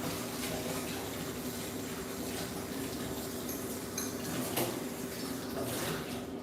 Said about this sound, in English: Let me rinse this out again.